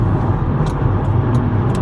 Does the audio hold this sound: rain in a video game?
no